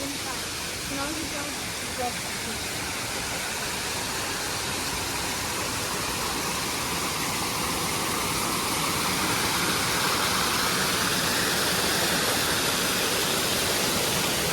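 Steady, loud rushing water from a nearby waterfall at Wat Rong Khun (White Temple), Chiang Rai, Thailand: a broad continuous roar, with a voice faintly heard beneath it.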